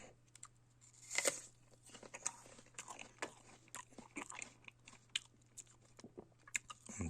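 Crisp bites and steady crunchy chewing of a juicy winter apple with white flesh, close up and clear, with repeated crunches over several seconds and no talking.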